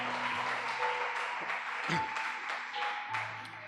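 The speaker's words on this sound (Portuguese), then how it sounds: "Senta, aplaudindo o nome do Senhor Jesus Cristo." Congregation applauding during an evangelical celebration service in a church, steady clapping under a sustained organ or keyboard tone, moderately loud and continuous.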